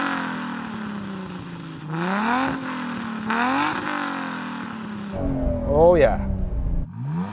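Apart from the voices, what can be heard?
Toyota Supra 2JZ engine revving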